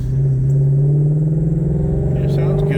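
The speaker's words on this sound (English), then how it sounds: "That Voodoo motor definitely is really sweet." A Ford Voodoo V8 engine runs with a loud, steady, deep throbbing rumble held at an even pitch from start to finish, heard up close.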